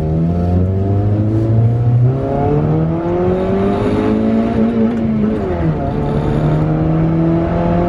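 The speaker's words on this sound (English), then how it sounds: "Okay guys, we're gonna do a little bit of a pull." A Honda Civic with a manual gearbox pulls hard from inside the cabin, engine droning loud and steady as the revs climb, drop at a gear change, then climb again.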